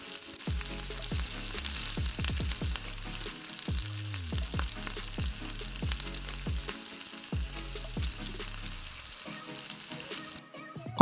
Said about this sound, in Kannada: ಆನಿಯನ್ಸ್ ಎಲ್ಲ ಚೆನ್ನಾಗಿ ಫ್ರೈ ಆಗಿದೆ.